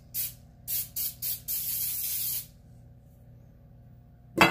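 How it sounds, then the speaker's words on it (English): Cooking spray hisses onto a Pyrex baking pan for banana bread, coming in four short close bursts and then one longer steady spray, followed by near silence and a brief thump at the end. "But I'm just going to spray the pan"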